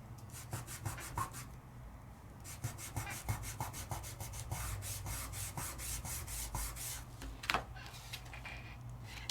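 Sizzix metallic flakes being burnished onto adhesive tape, heard as steady rhythmic rubbing strokes, close and moderately loud, with brief scratchy bursts and no talk.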